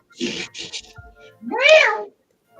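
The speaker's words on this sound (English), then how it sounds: "Wow, that's a cat." A cat gives a short rising-falling meow near the end, clear and fairly close, after a brief stretch of someone talking.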